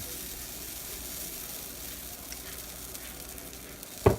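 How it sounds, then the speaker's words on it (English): Soft, steady sizzling of protein pancake batter in a pan runs quietly throughout, and a brief clatter comes near the end. "So we're gonna let it sizzle to all bubbles, and then I'm gonna flip it."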